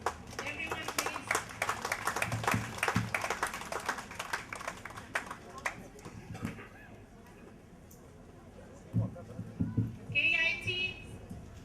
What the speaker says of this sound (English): Can you give a hand of applause